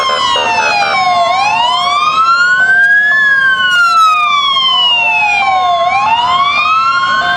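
Fire engine siren wailing loudly as it passes in a Christmas parade, a close, continuous rising and falling tone sweeping up and down over the whole stretch.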